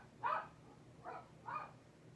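Dogs bark outside, three separate barks at middle distance, fairly faint, with short gaps between them and no talk over them.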